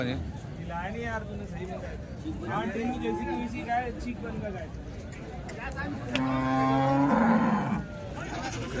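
Cows at the Chalisgaon cattle market give several drawn-out moos, with a louder, longer bellow near the end, heard over ongoing talk and the general murmur of the market.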